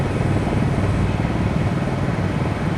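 A helicopter flies in Microsoft Flight Simulator 2020, a dense, continuous engine and rotor drone that sits close and loud, with no other sounds over it.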